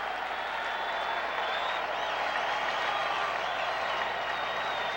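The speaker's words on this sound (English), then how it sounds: "and the crowd is roaring" A stadium crowd at Game 6 of the 1979 World Series between the Pirates and Orioles sends up a steady, dense roar with cheering and applause on a comfortable 61-degree evening, sustained and even throughout with no break.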